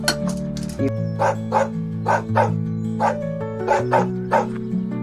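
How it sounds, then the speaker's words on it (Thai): A dog barks repeatedly in a steady series of sharp, close barks over a sustained musical tone, with a bark roughly every half second throughout. "มากี่ทีทีก็เห่า"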